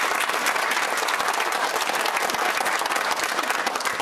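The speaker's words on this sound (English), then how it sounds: "Big round of applause." Studio audience applause on a TV game show set, steady dense clapping that stays loud and even throughout with no speech over it.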